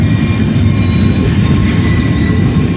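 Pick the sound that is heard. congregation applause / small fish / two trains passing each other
two trains passing each other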